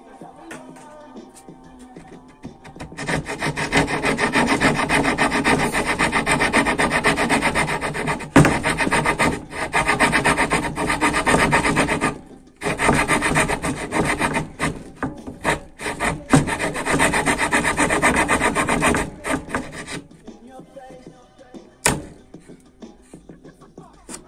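A handmade fretsaw blade in a hand fretsaw cutting through wood, giving a steady rasping back-and-forth grind that runs close and loud in long bursts, with brief pauses and a sharp clack near the end.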